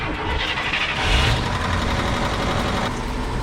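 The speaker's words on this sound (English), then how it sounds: "little bit of a lifter tick" A 1975 Scout International engine runs close by with a slight lifter tick, a loud, steady rough idle that swells briefly after a second and then settles.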